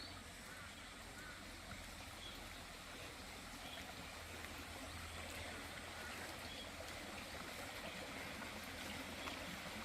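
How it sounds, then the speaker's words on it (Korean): Water rushes and burbles steadily throughout, a continuous mountain stream flow beside rural land in Gongju, South Korea, with no pauses, faint but even. "물소리가 참 시원하네요"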